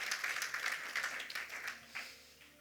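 A church congregation applauding at a healing service, a faint, scattered burst of clapping that gradually thins out and fades toward the end.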